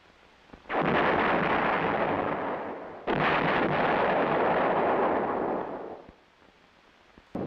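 Two long, loud booming blasts from a corps general support field artillery gun firing, similar in scale to an 8-inch howitzer; each roar sustains for a few seconds before tailing off, with no voices.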